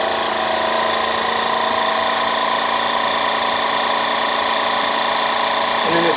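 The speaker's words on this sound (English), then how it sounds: "I click vacuum seal, and it sucks all the air out" A vacuum sealer pulls the air out of a bag of seasoned meat, its pump giving a steady, fairly loud motor drone that runs unbroken from start to finish.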